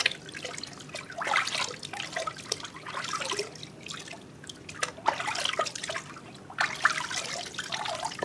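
Water trickling and splashing as shampoo is rinsed from a baby's hair in a bath, with irregular soft pours and drips rising and falling, fairly quiet and close, no talking.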